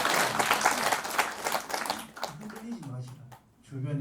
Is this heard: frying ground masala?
no